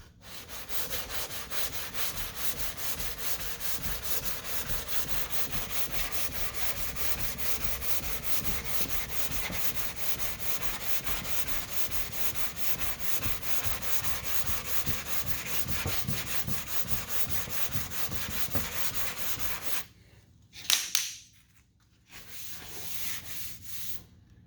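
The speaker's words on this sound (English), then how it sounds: "So we're gonna keep sanding." Steady, continuous abrasive rubbing of sandpaper over 2K primer along a car body line, close and loud for about twenty seconds, then stopping with a few brief scrapes and handling noises.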